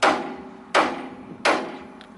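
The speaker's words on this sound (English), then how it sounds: "So let's give it a little whack." A hammer strikes the lower ball joint on a 2000 Honda Accord three times at an even pace, each a loud, close metallic bang with a short ringing decay.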